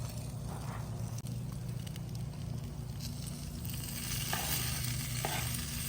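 Food sizzles and fries steadily on a Blackstone Adventure Ready griddle outdoors at a campfire stir fry, a dense, continuous hiss packed on the hot surface with light stirring scrapes, close and constant with no talk.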